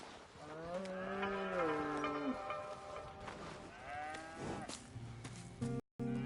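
Cattle mooing in Red Dead Redemption 2, several drawn-out lowing calls one after another, close and fairly loud, with a final short moo cut off abruptly at the end.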